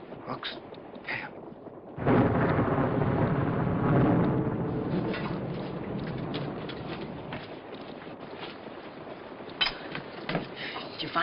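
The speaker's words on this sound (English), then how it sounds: "I don't think nobody will find us in this storm." A thunderstorm with heavy rain around a boat: a loud, rushing roar of rain and wind swells up suddenly, then fades back to a steady wash broken by a few sharp cracks.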